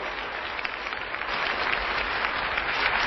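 A church congregation claps together in loud, sustained applause that swells slightly toward the end, a dense steady patter filling the room without speech over it.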